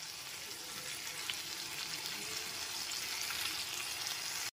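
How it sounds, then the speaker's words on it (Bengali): Fried paneer cubes being stirred into capsicum in a hot pan, with a steady, dense sizzle running close and loud throughout, no talking, ending abruptly. "ভেজে রাখা পনিরের টুকরোগুলো দেওয়ার পর খুব ভালো মতো একবার মিশিয়ে নিচ্ছি।"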